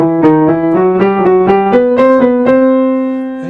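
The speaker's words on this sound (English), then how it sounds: "Cookie cutter is where you take one little melodic pattern and you just repeat it up a scale." Piano plays a short melodic pattern repeated step by step up a scale, a cookie-cutter run of clear, evenly spaced notes rising steadily and fading at the end.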